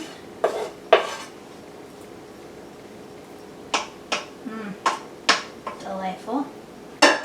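Lasagna meat being spread over a layer of noodles in a pan, a series of close metallic scrapes and clinks from a utensil, irregular with quiet pauses between strokes.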